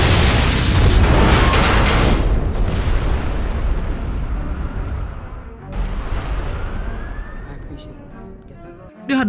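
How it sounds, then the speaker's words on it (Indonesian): Huge film explosion of a large bomb shot atop a building: a loud, sustained roaring blast with rumbling debris that fades slowly, then a second swell and a sharp burst at the end, under a narrator's voice. "langsung menembak sebuah bom besar di atas gedung itu dan membuat sebuah ledakan yang sangat besar"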